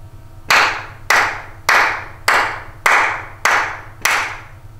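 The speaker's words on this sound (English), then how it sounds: "Say it with me as I clap." Seven sharp hand claps ring out in an even, steady rhythm, each loud and crisp with a short room decay, and no talking in between, during a second-grade lesson.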